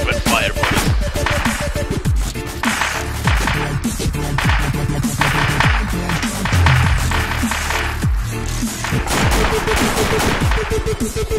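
Rapid gunfire in DayZ roleplay combat, loud, dense bursts of shots cracking nearly nonstop with short gaps, some echoing, no clear talk over it.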